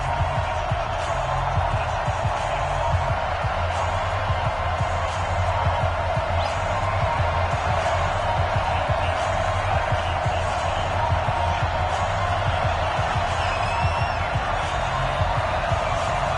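Stadium crowd at an NFL game between the Philadelphia Eagles and a home team in an EA Sports football game, a steady loud roar of cheering spectators sustained throughout.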